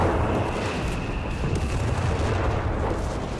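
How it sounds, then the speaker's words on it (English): Mortar fire in Company of Heroes 3 battle: continuous rumbling artillery thuds and blasts packed closely together under a dense wash of combat noise, steady and loud throughout without speech. "Mortar fire slaying down all over the place here."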